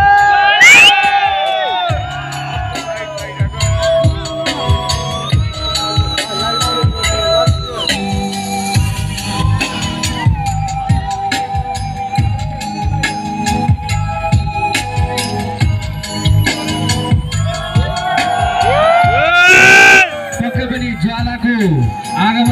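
A lively school crowd at a wrestling show cheers and shouts for a wrestler's entrance, with whoops and children's yells over loud entrance music and an announcer talking throughout.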